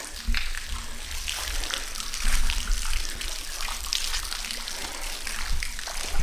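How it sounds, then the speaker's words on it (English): A waterfall in Red River Gorge rushes steadily in the distance, a constant broadband wash of falling water with low rumble, heard alone outdoors. "Let's get that waterfall up there."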